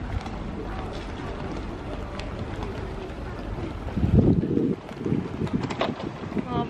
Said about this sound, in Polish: Ale fajna pogoda, tak delikatnie wieje